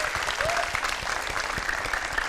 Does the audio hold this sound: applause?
yes